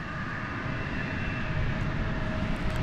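An America West airliner rolls along the runway at DFW, a steady, loud jet-engine roar with a sustained whine running over rumbling noise, heard from nearby without a break.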